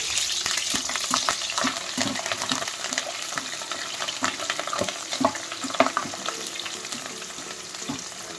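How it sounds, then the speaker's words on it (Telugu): Green chilies frying in oil as a garnish for cauliflower pakoda, a continuous bubbling sizzle with frequent light stirring clicks, close and steady throughout, no speech. "ఇప్పుడు చూడండి పచ్చిమిరపకాయలను కొద్దిగా వేయించుకుందాం."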